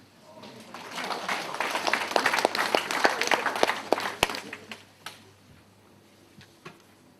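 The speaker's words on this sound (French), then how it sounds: "Lui aussi, je vous propose de l'applaudir avant" A small conference audience claps: a sparse round that builds for about three seconds, then thins into a few scattered, distinct claps before dying away, with quiet room noise underneath.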